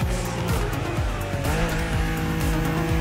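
A car in The Crew Motorfest revs hard through repeated rising gear pulls while its tires squeal in long skids, loud and close with no talking.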